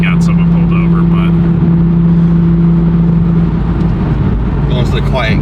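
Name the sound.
Toyota A90 Supra cruising in sixth gear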